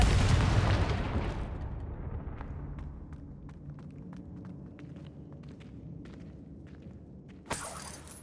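A Confringo blasting spell explodes in Hogwarts Legacy, a loud booming burst at the start that decays into a long crackling tail of small pops and debris clicks, with a bright swoosh near the end.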